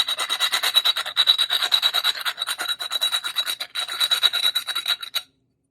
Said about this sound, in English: you can just turn this pipe as you go, and it'll get all sides